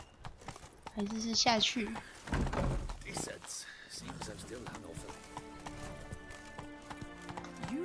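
Roach the horse gallops in The Witcher 3, with quick hoofbeats clip-clopping under a player's chatter and bits of game sound.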